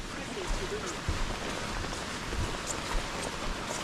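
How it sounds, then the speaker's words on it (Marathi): Heavy rain pours steadily outdoors near Kondeshwar temple by Pune, a dense continuous patter with scattered heavier drops, fairly close, under occasional low voices. "भाई पाऊस जोराचा पडतोय"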